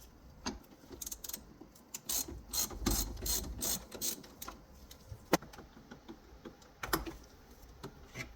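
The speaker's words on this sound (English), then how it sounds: "You can loosen up your battery terminals" A hand ratchet clicks in quick, uneven bursts while loosening car battery terminals, the rapid pawl ticks close and fairly loud with short pauses between strokes.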